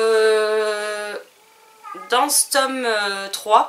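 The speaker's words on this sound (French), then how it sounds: "Je suis désolée si vous entendez miauler" A female cat in heat meows behind a door: one long, loud, steady yowl, then a quieter pause before someone talks in French with short cat-like cries mixed in.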